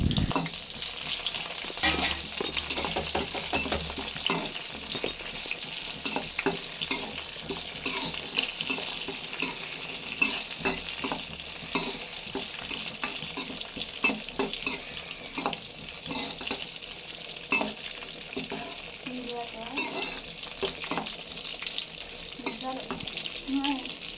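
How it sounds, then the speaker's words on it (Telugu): Dried red chillies, green chillies and curry leaves fry in oil for a Telugu drumstick-leaf dish, giving a constant close hiss and crackle, with frequent light clicks and scrapes of stirring and faint talk at moments. "ఇందులో ఎండుమిర్చి పచ్చిమిర్చి అలాగే కరివేపాకు వేసుకుని ఫ్రై చేసుకోవాలి"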